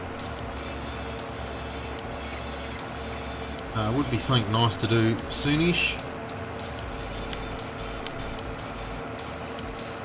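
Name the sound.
tractor engine running in Farming Simulator 22 video game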